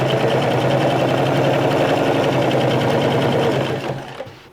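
Domestic sewing machine top-stitching a shirt sewn from a bed sheet, running in one steady continuous whir at close range, then slowing and stopping near the end.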